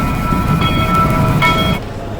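A train rolls along the rails close by, a loud steady rumble with faint squealing tones from the wheels, fading slightly near the end.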